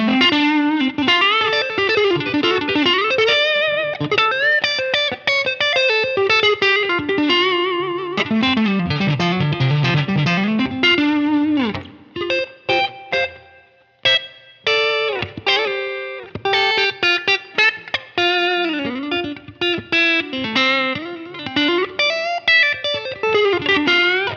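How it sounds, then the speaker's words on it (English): Electric guitar played through effects with noticeable reverb, chords and melodic runs ringing out continuously, with a brief sparser stretch of plucked notes midway. "I find that reverb really adds something nice to the whole sound."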